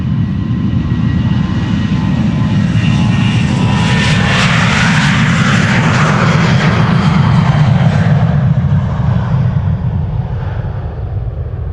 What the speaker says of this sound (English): Another 737-800, one of the many.